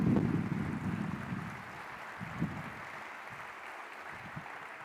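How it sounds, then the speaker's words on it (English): A large crowd applauds steadily, a dense wash of clapping that gradually softens over several seconds. "Everyone, please, a round of applause for all of our presenting sponsors."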